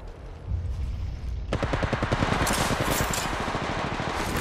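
Rapid automatic gunfire from the battle royale game Apex Legends Mobile, loud and close, starts as a rumbling background, then sharpens into a fast, steady stream of shots that continues to the end.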